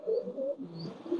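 Pakistani Teddy breeder pigeons coo in a loft where several pairs are kept. Soft, throaty rolling coos come in close, continuous bursts, with faint chirps at the top and no talking.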